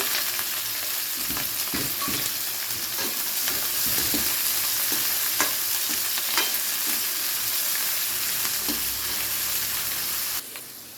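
Vegetables and other ingredients for Bengali-style mixed fried rice sizzle and fry in a pan, a steady close hiss running throughout with occasional stirring clinks, and the sound drops off abruptly near the end.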